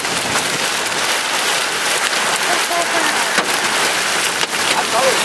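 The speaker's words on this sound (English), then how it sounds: "Man, it's raining." Steady heavy rain pours during a storm on a highway, a dense continuous hiss drumming on a moving vehicle, with a few sharper drop impacts.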